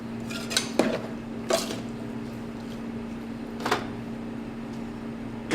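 Chili with black beans is stirred in a pot, giving a few scattered clinks and scrapes of a utensil against the pot over a steady low kitchen hum.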